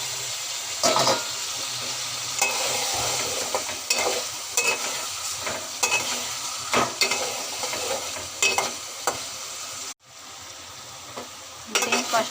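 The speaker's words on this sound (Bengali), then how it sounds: "এখন দিয়ে দেবো ডিম ভাজা।" Fried eggs are stirred into sizzling spiced masala in a pan for an egg and potato curry. A spoon scrapes and taps in a steady rhythm over continuous close frying hiss.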